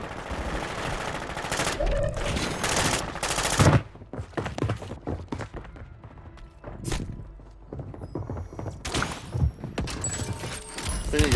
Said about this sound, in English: We're getting sniped from everywhere.